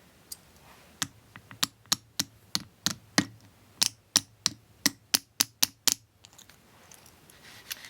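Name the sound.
hammer tapping the edge of metal jewelry piece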